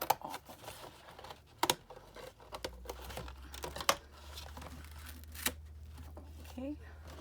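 Scissors or a blade cut through a cardboard soda box in a few sharp snips and scrapes with brief crinkling, close up, between quiet handling noises and a low hum.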